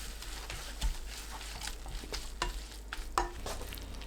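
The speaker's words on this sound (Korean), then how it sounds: "바로 소금으로 간 맞춘 뒤 1분 더 볶으면 됩니다." Dried greens (bangpung namul) stir-fry in a hot pan, with a soft steady sizzle and intermittent scraping and tapping of a utensil against the pan.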